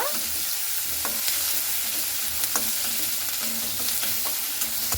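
Chopped onions frying with nigella seeds in oil left over from frying puti fish, a dense close sizzle with repeated light stirring clicks and scrapes throughout, no speech.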